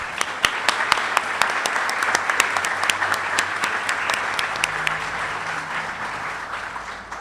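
An audience at a conference in Santa Fe on workplace violence gives sustained applause, a dense wash of close and distant claps with sharp individual hand strikes standing out, fading slightly toward the end.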